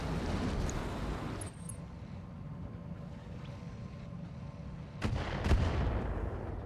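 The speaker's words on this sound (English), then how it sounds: "Mortars in the back." Mortar fire in the mech strategy game Roguetech: dull rumbling background with a muffled boom, then two sharp blasts close together near the end, moderately loud and without speech.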